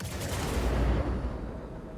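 A missile launches in the space combat game Star Citizen with a loud, dense rushing roar. The blast holds steady and close for about two seconds without a break.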